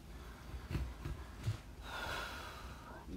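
Heavy breathing from a person colouring a drawing, a few close, sharp breathy puffs and sniffs followed by a longer strained exhale, with no talking.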